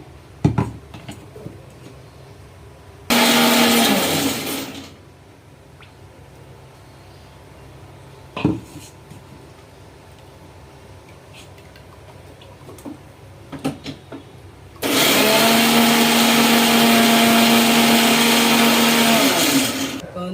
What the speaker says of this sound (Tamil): அதுக்குள்ளே பொட்டுக்கடலையை கொஞ்சம் பொடி பண்ணிட்டு வந்துடுவோம்